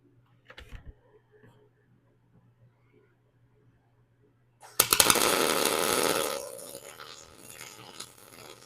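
A wire-feed welder strikes an arc on steel plate after a few faint handling clicks, then crackles and buzzes loudly for about two seconds before the sound tapers off into a quieter sizzle.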